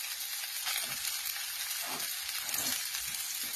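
Onion, garlic and beef sautéing in a pan, a steady bright sizzle with occasional soft stirring scrapes, close and alone without talk.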